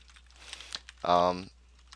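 Keys tap lightly on a computer keyboard during a Tibia gaming session: faint, scattered clicks, with a brief steady tone sounding over them midway.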